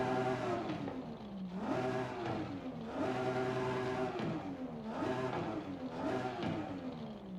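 A Nissan Silvia S15 with an RB engine, race ignition and race exhaust in Forza Horizon 5 revs repeatedly, the pitch climbing and dropping back in four or five rhythmic cycles, loud and close with no talking.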